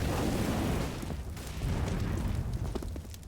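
Loud, roaring burn of a fire grenade in a Counter-Strike-style shooter, a dense continuous crackling whoosh that dips briefly mid-way, with faint game effects and scattered pops over it.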